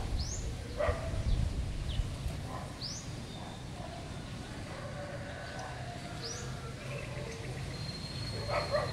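A few faint, distant barks from neighbourhood dogs loose outside in a village, with birds chirping repeatedly nearby over a steady outdoor background.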